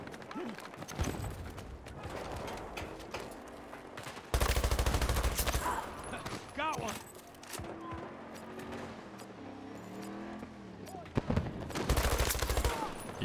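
Bursts of AN-91 assault rifle gunfire in Battlefield 2042, loud close shots at the start and end with rattling game effects and mechanical clicks between.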